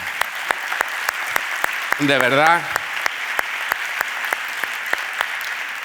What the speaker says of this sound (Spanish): por el que pido un primer aplauso antes de que se acabe todo